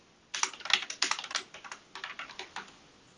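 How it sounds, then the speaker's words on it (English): A short password typed on a computer keyboard, a quick run of crisp, close keystroke clicks in an uneven rhythm with brief pauses, with no voices. "So I'm going to type in a quick password here."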